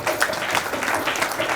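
Brief burst of audience clapping at a gratitude ceremony honoring elders, a dense, fairly close patter of many hands lasting just over a second.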